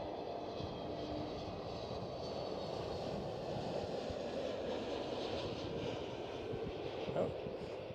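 A KLM Airbus A321neo moves at Amsterdam Schiphol airport, its engines a faint, distant, steady roar that holds for several seconds with no clear talk.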